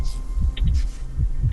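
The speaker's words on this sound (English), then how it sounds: "Why did my heartbeat go up like that?" Heartbeat sound effect in the first-person shooter Terminator: Resistance, a close, low rhythmic thumping of about five beats over a soft hum, with faint game noises and no speech.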